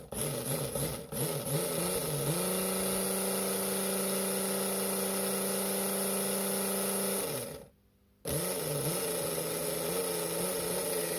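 Mega G Plus slot car motor spun on a dyno, a steady high electric whine that settles into a constant pitch, cuts out briefly near the end, then starts again and winds back up.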